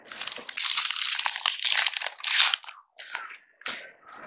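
Yu-Gi-Oh trading cards pulled from booster packs at home, with loud close crinkling and rustling of foil wrappers and card stock in bursts, broken by brief pauses.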